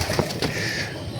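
Pigeons feeding on grit give a soft coo against a steady low rustle, with a faint flutter or two, close by and without speech.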